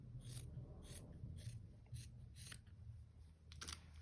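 Scissors snip straight across a knit sock just below the heel, a series of short, soft crisp cuts repeating at a steady pace, close and quiet, with no talking.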